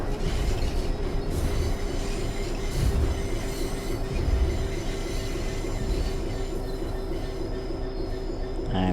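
Rail Head Treatment train braking on the Birmingham Cross City line in a train-driving game, with a continuous loud rumble of wheels on rail, a steady squealing tone and occasional heavier thuds.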